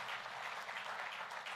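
Audience applause at a political rally, a steady dense wash of clapping that holds evenly loud throughout with no voices above it.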